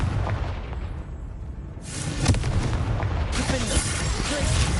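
The Confringo explosive spell in a Hogwarts video game: a sudden, forceful blast bursts out of a low rumble, followed by continued crackling, roaring noise that stays loud to the end.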